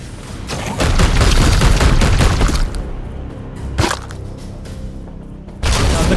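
Support gunfire in the video game Warhammer 40,000: Chaos Gate – Daemonhunt: a loud, dense burst of shots runs for about two seconds, then a single sharp crack and a quieter rumble, with a fresh burst at the end.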